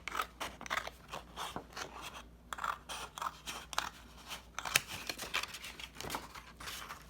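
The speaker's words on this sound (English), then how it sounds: "I simply cut it in half" Scissors cutting a sheet of sketchbook paper in half, a string of quick crisp snips and crunchy paper rustles close to the mic, quiet and without talk.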